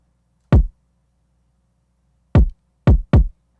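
A kick drum processed with the Knock plugin plus saturation and clipping strikes four times, alone and a bit louder than dry: one hit, a long gap, then three closely spaced thumps, each with a snappy, crunchy transient and a short low tail.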